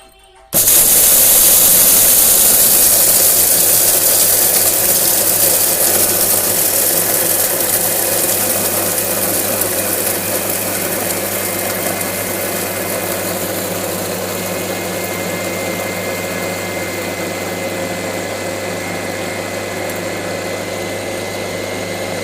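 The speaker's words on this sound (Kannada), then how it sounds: "ಮಿಕ್ಸಿಗೆ ಹಾಕ್ಕೊಂಬರ್ತೀನಿ." A kitchen mixer grinder runs loud and continuous, grinding mustard seeds, cumin, pepper and urad dal into chutney powder. It starts with a sudden roar, then settles into a steady high motor whine that eases slightly over time.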